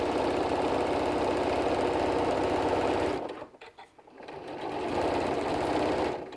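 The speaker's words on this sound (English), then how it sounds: "So I do want to back tack here." A sewing machine back tacks along the seam of an eye mask pillow, its needle chattering in a steady, loud mechanical run that stops briefly in the middle and then starts again.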